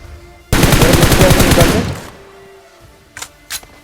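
A burst of rapid automatic gunfire in a battle royale video game, loud and close for about a second and a half, fading out and followed by two short sharp impact sounds.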